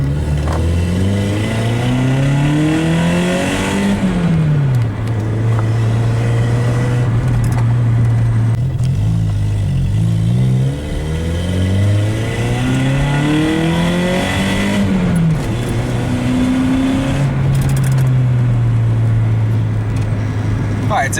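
A grey Honda Civic Si coupé engine revving repeatedly, pitch climbing and falling in several sweeps, loud and close, with people talking over it.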